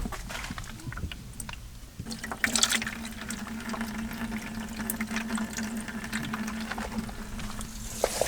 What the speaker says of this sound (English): Elijah, turn on the sink faucet real quick.